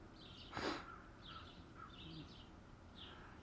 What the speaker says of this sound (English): You can hear a lot of birds around me.